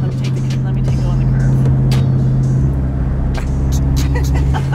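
A car gains speed on an open road, its engine a loud steady rumble rising slightly, heard from inside with people talking over it.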